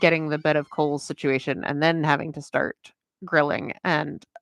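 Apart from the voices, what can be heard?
No everyday noises stand out.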